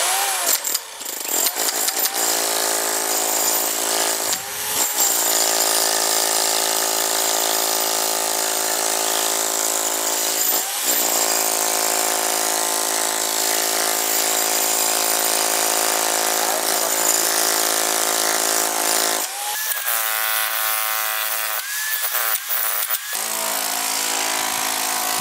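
A Parkside demolition hammer runs loud and steady for a long stretch with a harsh mechanical roar, briefly stopping a few times and restarting, with no talk.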